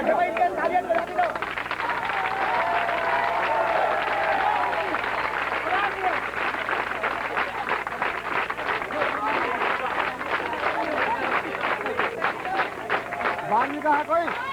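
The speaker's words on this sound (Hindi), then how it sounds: "इनके तालियां बजा दो" An audience at a retirement gathering for P N Gautam, with schoolchildren present, breaks into sustained, fairly loud clapping that runs for many seconds, mixed with crowd chatter and raised voices.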